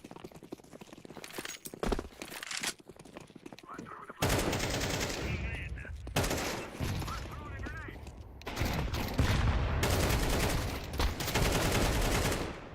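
Rapid bursts of automatic shotgun fire in Counter-Strike 2, loud and dense, arriving in clustered volleys among other game sounds.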